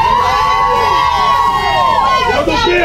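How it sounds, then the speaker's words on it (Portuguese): A loud crowd cheers and shouts continuously at a sporting event, with excited voices and whistles rising and falling throughout, an announcer's voice carrying over the noise. "Cadê a torcida do Júlio?"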